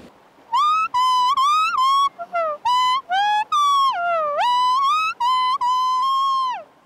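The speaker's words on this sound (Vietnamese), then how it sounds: "cô có thể thổi lại cho cháu nghe một đoạn không?" A H'Mong woman plays a kèn lá, a folk leaf horn, producing a bright, loud whistling melody of sustained, bending notes in short phrases with brief gaps, heard alone without talk.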